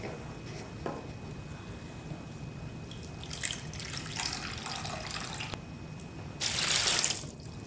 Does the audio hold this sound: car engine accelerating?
no